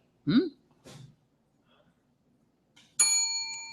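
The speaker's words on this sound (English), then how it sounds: "You better have your bell ready, mister." A quiz contestant's bell rings once, bright and sustained, at the end after brief voices and noises at a live podcast recorded at the Blue Box.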